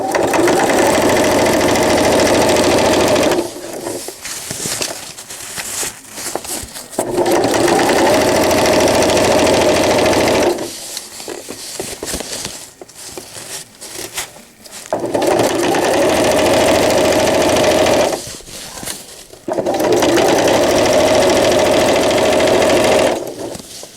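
A sewing machine stitches velcro onto a cloth diaper in loud, rapid bursts of several seconds each, separated by pauses with quieter fabric handling while the needle stays down to pivot.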